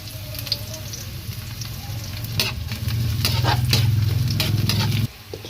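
Garlic sizzles in a hot kawali frying pan while chicken feet (pata ng manok) cook, a steady close frying hiss with scattered crackles and a brief stirring clatter, cutting off abruptly near the end.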